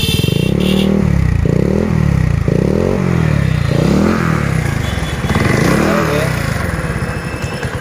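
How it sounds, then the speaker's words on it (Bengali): A Dayang 80cc motorcycle with a modified silencer runs loudly throughout, with rhythmic revving surges and a rattly exhaust note, close by. "এখন সাইলেন্সারের সাউন্ড একটু শুনেন আপনারা এখানে টেস্ট করা হচ্ছে"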